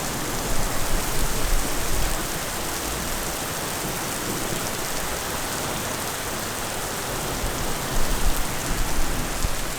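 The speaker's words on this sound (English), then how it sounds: "the rain picked up really gnarly again" Heavy rain pours down in a dense, steady hiss that fills the whole scene, surging slightly louder at moments with no voices.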